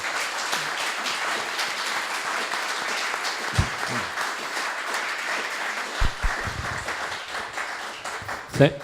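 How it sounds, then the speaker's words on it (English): An audience at a panel talk on populism applauds the panellists, a steady moderate clapping that carries on with a few low thumps and bumps near the microphone, and a voice speaks briefly near the end. "a round of applause for everybody"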